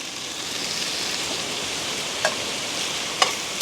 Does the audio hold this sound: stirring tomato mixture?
yes